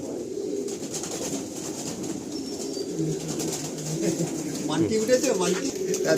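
Pigeons coo in soft, repeated low calls nearby, with a murmur of people talking in the background.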